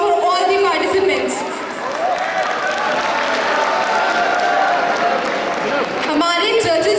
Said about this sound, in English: Please give a huge round of applause for all the participants.